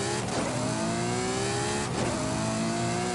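Ferrari SF90 with purple carbon fiber accelerating on a highway in Forza Horizon 5, a loud, steady engine roar with rising harmonic tones that climb and reset twice as it shifts gears, continuous throughout.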